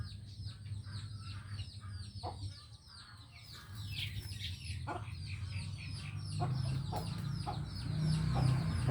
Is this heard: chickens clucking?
yes